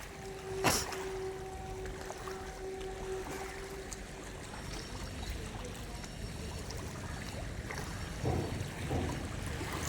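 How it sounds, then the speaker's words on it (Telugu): A boat on the Godavari river at Rajahmundry, with a steady engine hum and water wash running throughout, a sharp knock near the start and a brief surge late on; no one talks. "ఇక పడవ కూడా వచ్చింది మనకి."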